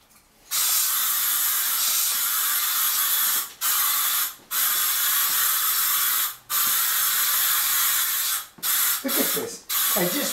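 Long hissing bursts of aerosol insecticide spray aimed at roaches, several in a row with brief pauses, close by, followed by a few quick short sprays at the end.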